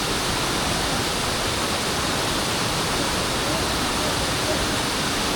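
Tagbibinta Falls in Maragusan pours in a steady, loud broadband roar of rushing water that continues unbroken throughout, close and dense with no pauses.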